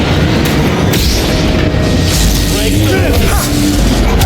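In the Star Wars Jedi Fallen Order video game, a hijacked cutter crashes through a cell block, giving a continuous loud roar of booming impacts and grinding destruction, with a voice speaking under the din.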